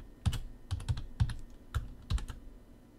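A password is typed on a computer keyboard as a quick irregular run of close, soft key taps with brief gaps between them.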